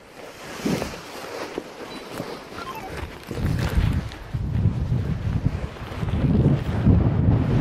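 Strong coastal wind gusting across the microphone on a launch site before a paraglider takes off, a heavy continuous buffeting roar that builds louder toward the end, with no voices.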